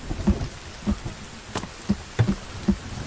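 Rain falling in the survival video game The Forest: a steady patter with soft, irregular thuds of heavier drops, and no one talking.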